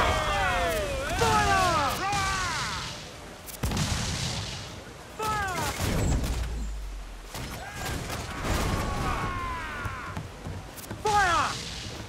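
Ship cannon fire in Assassin's Creed IV Black Flag: repeated heavy booms and crashes in a naval battle, interleaved with shouted voices and whistling sounds, loud and irregular.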